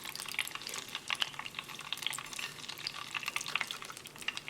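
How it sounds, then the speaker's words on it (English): Chicken strips deep frying in hot oil, a steady dense crackle and sizzle of bubbling oil with no voices. "place it inside the oil."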